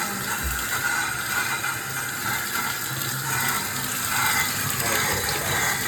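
Water runs steadily from a bathroom shower tap in an Irvine home, a continuous loud hiss with a faint mechanical ratchet near the start.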